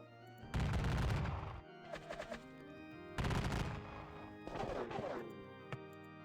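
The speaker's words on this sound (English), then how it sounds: "these 2 guns, these 4 guns rather, will blast them, blowing away 11 of them" Artillery fire in a Battle of Gettysburg war game: two loud, crackling bursts of cannon and gunfire, each followed by a shorter volley and a fading ring, with no talking.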